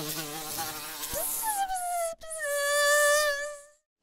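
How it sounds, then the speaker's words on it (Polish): A buzzing insect, a bee near a pile of apples, hums steadily and close up, its tone bending and rising before it fades out. Part of a children's audio play. "Patrz. Pszczoła."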